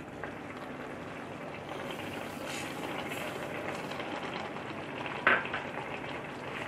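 Grated carrots cook in milk over a high flame for gajar ka halwa, producing a low, continuous bubbling simmer that stays fairly quiet, with one brief clink near the end and no speech.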